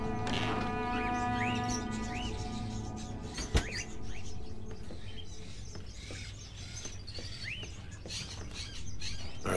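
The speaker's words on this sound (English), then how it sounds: "Are those crows in the cages? Oh my god, crows." Caged crows in the Fahrenheit Indigo Prophecy video game give a few short chirping calls over a steady, dense background ambience, with one sharp click partway through.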